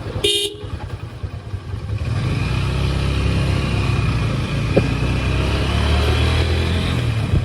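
Motorbike ridden through a Bangladeshi neighbourhood near home, engine noise and road rumble steady throughout, with a couple of horn toots along the way; no talking.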